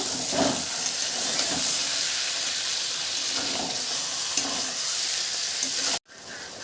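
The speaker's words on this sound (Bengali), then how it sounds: "এবারে মশলার সাথে খুব ভালোভাবে কচুটা মিশিয়ে নেব" Boiled taro being stirred into fried spice paste for a village-style taro greens and prawn dish: a loud, continuous close sizzle with rhythmic scraping stirs, cutting off abruptly near the end.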